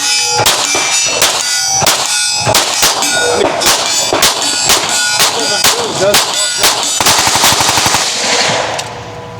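A firearm fires at a range, a loud rapid string of sharp shots with metallic ringing clangs, close and steady for about nine seconds before stopping.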